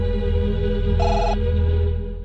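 A telephone rings loudly and close, a continuous electronic warble with a brighter tone partway through, fading slightly at the end.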